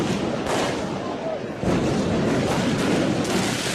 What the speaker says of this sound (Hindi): यहाँ भी बीच सड़क पर आतिशबाजी ही हो रही थी